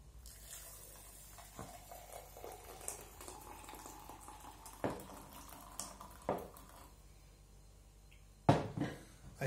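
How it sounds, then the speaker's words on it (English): Hot water is poured onto ground civet coffee, giving a soft continuous splashing trickle with a few sharper clinks and knocks from the cup or lid, and no talking. "I pour it on the coffee."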